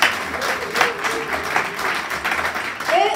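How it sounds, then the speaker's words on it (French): A church congregation applauds newly baptised members, a sustained round of clapping from a crowd with some voices mixed in. "On acclame pour eux"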